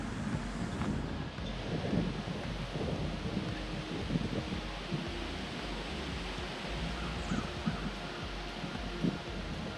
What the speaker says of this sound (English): It's a little windy. He doesn't like the wind.